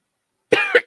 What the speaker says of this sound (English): Apparently, it was a cough.